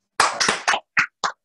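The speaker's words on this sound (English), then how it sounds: "I'd like to give him a clap" A few people in an audience at a karate memorial session clap close by, a brief dense burst that thins to a couple of sharp scattered claps before stopping.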